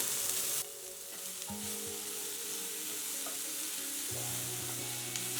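Steady sizzling of tomatoes and onions frying in a pan for chutney, with occasional stirring scrapes, close up and continuous with no talking.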